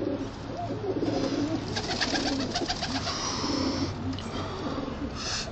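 Several pigeons coo in steady, overlapping rhythm on a rooftop loft, close and fairly loud, with a faint background hum and no talking.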